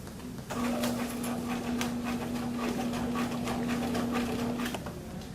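A sewing machine runs a corner seam in one steady, even whir lasting about four seconds, then stops, heard close up with no talking.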